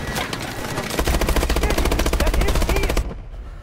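Rapid automatic gunfire rattles in a dense, loud, continuous burst for about two seconds in Call of Duty: Advanced Warfare, then cuts off abruptly into quiet.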